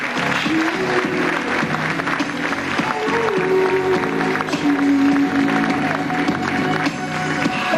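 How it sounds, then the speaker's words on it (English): An audience at a 1998 school fashion show in Bandon, Co. Cork, gives a loud, steady round of applause, with tonal music sounding underneath the clapping throughout. "I think she deserves a special round of applause, ladies and gentlemen."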